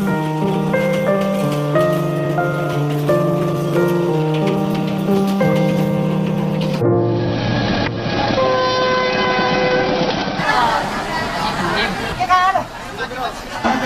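A crowded economy-class passenger train carrying Lebaran homecoming travellers in Indonesia rumbles steadily and loudly throughout, with sustained tonal horn-like blasts layered over the continuous rolling noise of the carriages.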